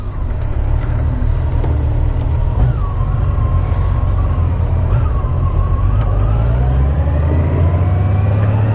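Honda Rune motorcycle with a Goldwing power plant, its engine running loud and smooth with a deep steady drone and a slowly rising pitch as it revs.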